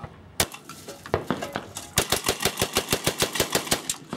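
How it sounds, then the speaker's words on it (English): A string of twelve rapid gunshots cracks out sharply, starting with a few spaced shots and then a fast, even burst, loud and close with nothing else competing. "That's a pretty fast 12 rounds."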